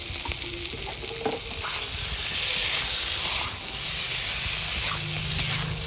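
Pointed gourd (potol) pieces tipped into a pan of spice paste fried down for a vegetarian lentil-fritter curry, giving a steady, close sizzle with light stirring throughout and no talking.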